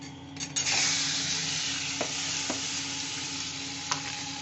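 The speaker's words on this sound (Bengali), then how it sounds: "এখানে এই চিংড়ি মাছটা রয়েছে, চিংড়ি মাছটা এবার আমি দিয়ে দেব।" Shrimp coated in salt and turmeric go into hot oil and fry over low heat, a steady bright sizzle with a few soft clicks of stirring.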